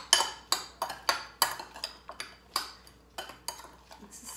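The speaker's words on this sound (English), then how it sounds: "And I'm just gonna give that a quick stir." Spiced pumpkin seeds stirred in a bowl with a utensil, making about a dozen sharp rhythmic clicks and rattles, close and clear with no voices.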